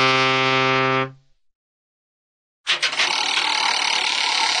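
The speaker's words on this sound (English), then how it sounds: "Boat." A boat horn sounds a single loud, low, tonal blast lasting about a second, then cuts to silence before a stretch of unrelated clattering noise.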